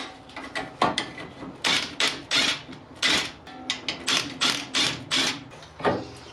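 Hub bolts on a Toyota MR2 being undone with a ratchet, a rapid run of close, bright clicking bursts in short repeated bouts with brief pauses between.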